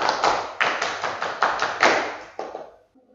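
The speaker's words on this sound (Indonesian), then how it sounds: "1 kali tepuk pramuka." A classroom group performs the scout clap pattern (tepuk pramuka): a close series of sharp, loud claps in an uneven rhythm, then silence.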